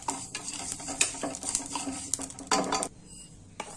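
Mustard and fenugreek seeds crackle as they fry in a pan for raw mango pickle, with sizzling and repeated stirring clatter and spoon-on-metal scrapes, close and busy before it quiets.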